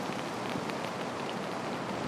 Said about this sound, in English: We've gone from steady rain to torrential downpour.